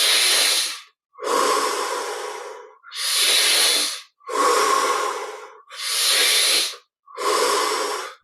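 Six slow, deep breaths during guided meditation, each a long airy inhale or exhale separated by brief silences, close and fairly loud in an even rhythm.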